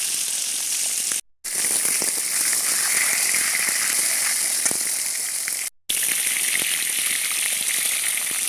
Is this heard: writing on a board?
no